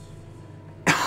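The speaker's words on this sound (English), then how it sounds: "Excuse me, coughing." A single sharp cough bursts out abruptly at the end after a quiet stretch, close and loud, from a man playing Onimusha Warlords.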